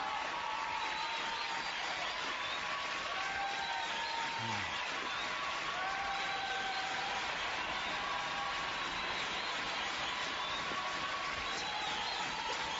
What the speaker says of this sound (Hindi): इन तालियों की गड़गड़ाहट को सुन रहे हो?